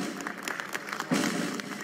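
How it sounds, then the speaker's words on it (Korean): Applause at a memorial ceremony for victims, after heads of state laid wreaths at a memorial, a soft, distant wash of clapping from the gathered crowd, swelling slightly midway. "기념식장에서는 박수가 터져 나왔습니다"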